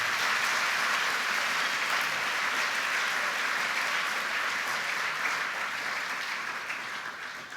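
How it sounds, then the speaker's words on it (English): Sustained applause fills a middle school awards day ceremony honouring students, steady and fairly distant, fading slightly toward the end. "Let's give all these students a round of applause."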